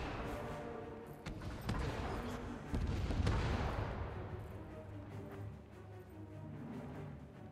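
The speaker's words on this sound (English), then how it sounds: "Fire all cannons." Heavy booming cannon fire rolls through a busy Guild Wars 2 PvP battle, blasts overlapping with rumbling low-end and a dense wash of noise.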